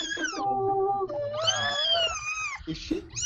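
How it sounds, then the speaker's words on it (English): A fussy pet cat meowing and yowling in long drawn-out wavering cries, close and loud, with people talking nearby. "What a fussy cat."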